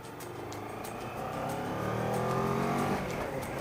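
A 2016 Kawasaki ER6F motorcycle engine accelerating on a country road, its pitch climbing steadily under wind rush, heard from the rider's position.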